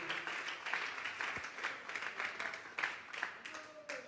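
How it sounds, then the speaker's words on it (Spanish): A church congregation claps during a Sunday service, a faint, somewhat distant patter of many hands in uneven bursts, with murmured voices mixed in. "Vamos a darle una ofrenda de palmas a ese Dios maravilloso."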